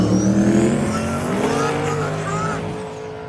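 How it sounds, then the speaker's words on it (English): A pickup truck's engine roars at full throttle as it launches hard, wheels up, in a small-tire drag race at Muncie Dragway, the loud revving sustained and slowly fading. "Big wheels up launch for the pick-em-up truck."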